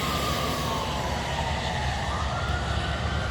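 A fire rescue truck's siren wails steadily through heavy road traffic, its pitch sliding as it passes close by, loud and continuous with no talking.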